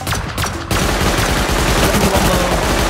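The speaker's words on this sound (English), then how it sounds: "we can start shooting regular ammo at it" Gunfire in Rust aimed at a turret: a couple of separate shots, then a dense, loud, continuous burst of rapid fire crowding the rest of the short stretch.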